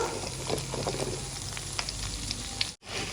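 Mustard paste and garlic cloves fry in oil, a close, even sizzle with light crackles and a few stirring scrapes, cut by a brief dropout near the end, no talk.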